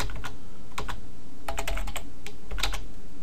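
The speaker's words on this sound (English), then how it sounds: "I can't type today." Fast bursts of clacking keystrokes on a computer keyboard, close and crisp, typed in uneven clusters with short pauses between them and no talking.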